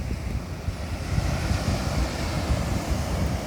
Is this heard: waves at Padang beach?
yes